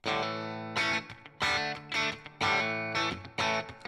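A distorted electric guitar with noiseless Fishman Fluence pickups plays short rhythmic chord stabs with brief gaps between them, clean of background noise.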